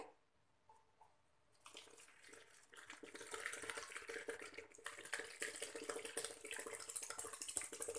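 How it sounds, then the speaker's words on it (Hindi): Water pours steadily into a bowl of maize flour mixture, a quiet start giving way to a loud, continuous splashing stream that fills the rest of the clip. "अब इसमें हम पानी डालेंगे।"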